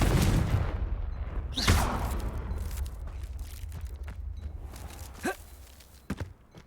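Confringo fire spell in the Hogwarts Legacy video game: a loud fiery boom at the start with a sharp crack, then a fading rumble and scattered smaller impacts and thuds.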